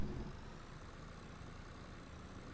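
Tractor engine idling in Farming Simulator 22 on a farm planting oats: a steady, low, even drone with a rumbling bottom end, moderately quiet and continuous, with no speech over it.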